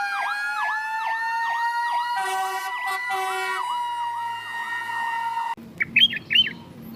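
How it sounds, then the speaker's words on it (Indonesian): A toy fire truck's electronic siren wails in a rapid, repeating up-and-down sweep, loud and close, then cuts to a short burst of chirpy tones at the end. "Ada pemadam kebakaran."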